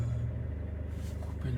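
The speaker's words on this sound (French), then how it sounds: "Il y a le bruit du moteur" A car engine running while parked with the lights on: a steady low hum, close and fairly quiet, with a soft voice speaking over it.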